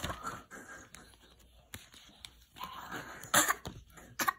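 A person coughs several times in short, sharp bursts spread across a few seconds, close and moderately loud, with a heavier cluster of coughs near the end in a quiet indoor room.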